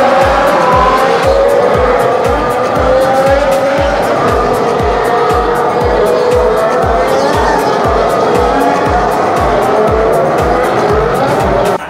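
Loud Formula 1 cars roar past on the track at Silverstone in 2016, engines revving in rapid repeated pulses, close and continuous with a crowd-like background.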